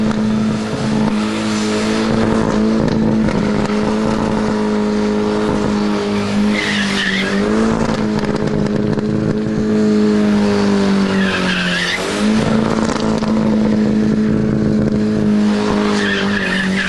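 A 2-litre turbo car squeals its tyres in a long, loud burnout, the engine droning steadily with two brief dips in pitch as the rubber screeches on.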